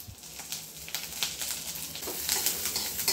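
Garlic and ginger sauté in a little oil in a wok, producing a bright, close hiss with quick stirring scrapes pulsing through it, alone without speech.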